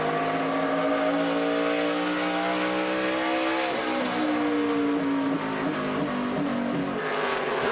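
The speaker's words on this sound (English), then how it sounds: "he's using the throttle, I think, to help turn this race car just a little bit." A NASCAR Nationwide Series race car at Richmond drives on throttle through a corner, its engine a loud steady roar whose pitch shifts and climbs, with other cars' engines blending in.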